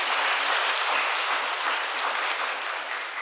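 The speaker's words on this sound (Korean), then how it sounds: "김용식 목사님께 다시 한번 감사의 박수 드리도록 하겠습니다" A church congregation applauds together in steady, dense clapping that fills the room at a loud, even level from start to finish, with no talk over it.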